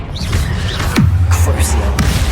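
Confringo blasting spell cast in the Hogwarts Legacy video game, a loud close burst with a sweeping whoosh and a low rumble that trails off, with a voice speaking around it.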